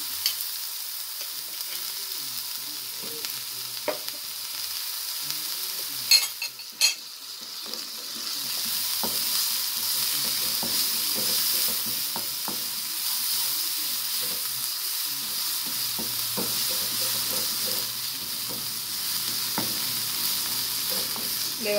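Onion and garlic sauté in a pan, the sizzle rising sharply after a few stirring clatters partway through, then holding as a steady close hiss with occasional spoon scrapes.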